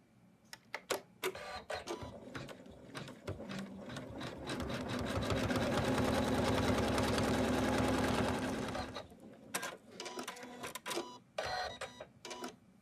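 An in-the-hoop embroidery machine stitches the outline of a snowman on a stocking. The rapid mechanical whir builds and holds steady at full speed, then slows into choppy bursts and clicks at the start and end, with no talk.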